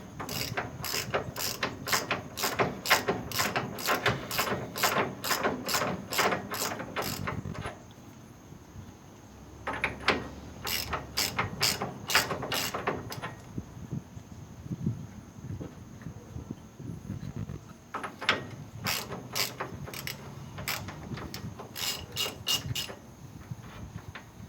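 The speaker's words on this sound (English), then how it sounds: "So this nut right here comes off." A ratchet wrench spins a nut off the lower outer control arm pin on a 1955 Cadillac Coupe DeVille's front suspension, in bursts of rapid, loud clicking separated by short pauses and fumbling.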